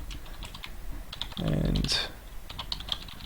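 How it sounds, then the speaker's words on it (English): A command is typed on a computer keyboard in a run of quick, light key clicks, briefly interrupted by a short spoken word, then more tapping resumes nearby at a moderate level. "So I'll type in the command again"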